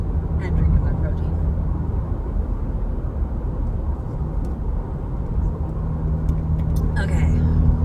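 Car driving, heard from inside the cabin: a steady, loud low road rumble and engine drone throughout, with occasional faint clicks and rattles.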